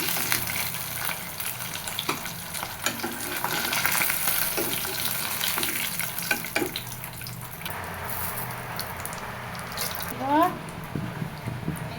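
Egg fritters frying in oil, a steady sizzle with intermittent clinks and stirring taps, briefly joined by a few watery sounds near the end.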